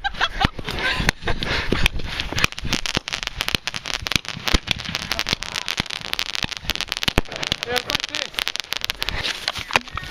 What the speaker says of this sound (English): Are you lighting an artillery shell?